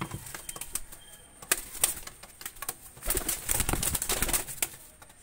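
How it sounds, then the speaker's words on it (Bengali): A single young pigeon with a white-tipped beak flaps its wings after being let go, giving bursts of sharp wingbeat clatter. The bursts are close and irregular and grow busier toward the end. "কবুতরটা আমি ছেড়ে দেখাচ্ছি, দেখেন।"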